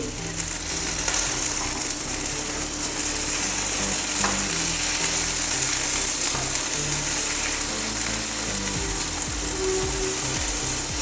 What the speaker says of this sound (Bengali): ভাজার জন্য হালকা করে ভেজে নিব বেগুনটাকে